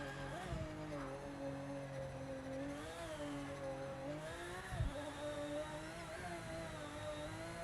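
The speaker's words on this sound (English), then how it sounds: "I just now had to burn all four tyres." A race car in Project Motor Racing holds a steady whining engine drone with shifting pitch, broken by a couple of brief thumps, with only faint hints of tyre scrub under the continuous mechanical hum.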